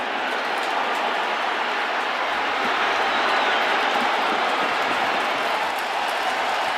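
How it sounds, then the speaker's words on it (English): Crowd cheering fills Yankee Stadium as a steady, loud roar of many voices at a baseball game, sustained throughout with no single voice standing out. "you hear the cheering here at Yankee Stadium"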